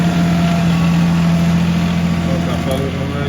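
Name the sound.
tractor engine idling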